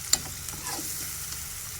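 Spices for tempering sizzle in hot oil in a pan while being stirred, with a sharp scrape near the start and a steady fry hiss throughout, close and moderately loud.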